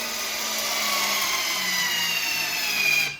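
A HYtorc centerlock tool tightens the center-lock wheel nut on a Porsche to 600 Newton meters, giving a steady, loud mechanical whine and hum that holds throughout and then cuts off abruptly at the end.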